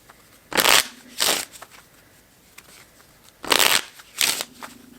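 A deck of playing cards being shuffled in four distinct riffle bursts, close and crisp, separated by short quiet pauses with no talking.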